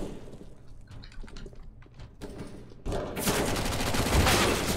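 Rapid gunfire in a Counter-Strike-style shooter match, first quieter scattered shots and clicks, then a loud, dense burst of repeated shots that keeps going to the end.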